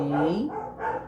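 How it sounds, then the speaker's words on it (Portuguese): A neighbour's dog barks outside, a few muffled, distant yelps heard from indoors, faint and brief. "Desculpa o barulho externo do cachorro do vizinho."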